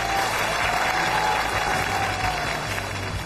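Loud, dense audience applause at a televised Chinese comedy competition show, welcoming performers onto the stage, continuous and even throughout with crowd noise.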